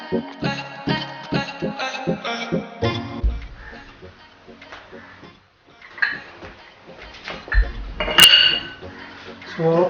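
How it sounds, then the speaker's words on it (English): An Allen key works open a Yamaha RXZ motorcycle front fork, giving scattered close metallic clinks and taps in an uneven rhythm, with some voice and background sound mixed in. "Using that I'll open the fork and drain the oil."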